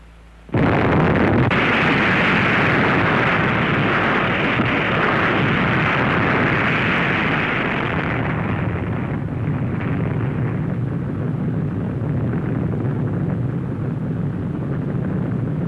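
A massive atomic bomb explosion erupts suddenly into a loud, sustained roar that rumbles on steadily without easing.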